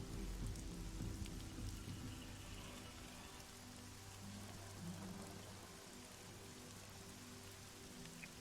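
Steady rain ambience as a sound effect for a guard standing in the rain outside a cave, a dense continuous patter of drops on surfaces with a low rumble underneath, even and unbroken throughout.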